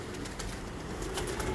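Pigeons cooing on a rooftop, soft repeated coos over a constant low outdoor background hum, fairly faint and continuous.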